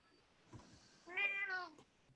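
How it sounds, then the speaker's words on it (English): A pet cat meows once, a clear drawn-out, rising-then-falling call, close and fairly quiet, after a soft bump and little else. "We heard from your kitty"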